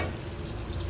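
Potato patties sizzling in hot oil, a steady dense crackle with bubbling that holds evenly through the short moment at close range.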